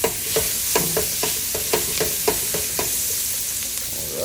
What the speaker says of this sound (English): garlic and some onions. I just like to make those get a little sauteed before anything else.